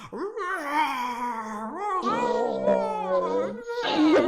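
Several people imitate lion roars with drawn-out, wavering voiced growls and yowls, overlapping in a loud, continuous stretch.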